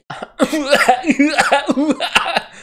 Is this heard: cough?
yes